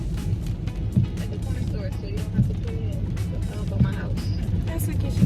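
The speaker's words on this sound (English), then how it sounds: "We're in the car." Inside a car, a low, steady engine and road rumble runs continuously beneath people talking.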